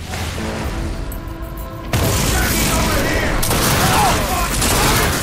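Gunfire from The Darkness II rattles out as a loud burst of shots and booms, first under other game sounds and then as a sustained barrage with a sharp jump in intensity partway through.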